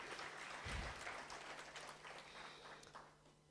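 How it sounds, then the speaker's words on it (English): An audience at a World Day of Safety and Health event in Free State claps in a soft, fading round of applause heard at a distance. "Can you give him another round of applause?"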